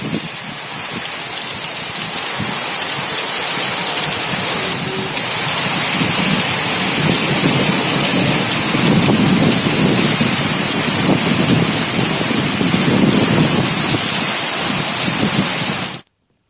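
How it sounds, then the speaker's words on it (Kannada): Heavy rain pours in a dense, steady roar with a low thunder rumble beneath, then cuts off abruptly. "ಮಳೆರಾಯನ ಅಬ್ಬರ ಜೋರಾಗಿತ್ತು"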